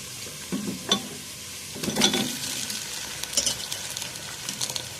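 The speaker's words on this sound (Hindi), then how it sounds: "अब हम इसमें चिकन डाल देंगे।" Chicken pieces go into a hot karahi with cumin and are stirred, giving a close, moderate sizzle broken by scraping, clattering stirring strokes in a few bursts.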